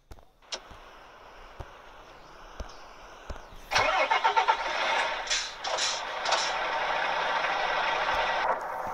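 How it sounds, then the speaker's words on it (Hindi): A heavy truck engine in the Euro Truck Simulator 2 game cranks and catches, then settles into a steady loud idle after a few quiet clicks and switch sounds. "ट्रक स्टार्ट होने की आवाज़ सुनते मज़ा आता है भाई, बहुत ही बढ़िया आवाज़ है।"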